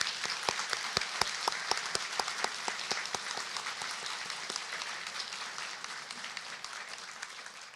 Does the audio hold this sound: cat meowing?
no